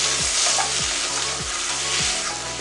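Tomatoes sautéing in a pan for a crab roast give a steady close sizzle, with several rhythmic scrapes of a stirring spoon against the pan roughly every half second.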